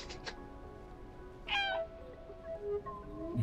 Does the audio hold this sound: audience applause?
no